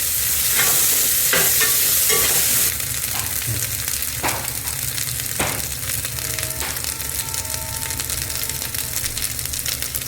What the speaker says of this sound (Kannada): ಇವಾಗ ಪುದೀನ ಒಂಚೂರು ಹೆಚ್ಚಿಟ್ಕೊಂಡಿರೋಂಥದ್ದು ಒಗ್ಗರಣೆಗೆ ಹಾಕೊಂಡ್ಬಿಡ್ತೀನಿ.